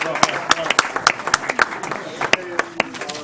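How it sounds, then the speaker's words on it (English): Audience clapping at a school board meeting, with irregular hand claps close by and fairly loud, mixed with crowd murmur and some voices underneath. "Yay, now we can clap."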